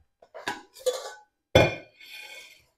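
A metal cooking pot used for mashed potatoes is handled in a home kitchen, giving a few separate clanks and rattling clinks, fairly close and with no talking.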